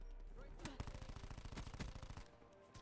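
Rapid automatic gunfire in the video game Black Ops 4 during a Mercenary Deathmatch, a fast, evenly spaced burst of shots lasting about two seconds, fairly close and sharp, with a couple of louder single cracks.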